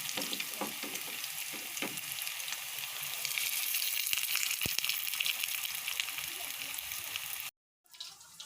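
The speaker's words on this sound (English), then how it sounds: "the nuggets are frying" Oil sizzles and crackles steadily up close as chicken nuggets fry, a dense frying hiss that cuts off abruptly near the end.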